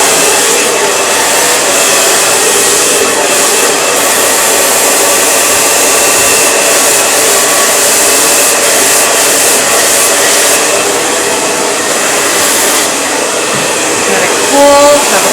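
A hair dryer blows hair during a beginner blow-dry and beach-wave curling class, giving a loud, steady, close rushing whoosh that runs unbroken through the whole stretch with no talking.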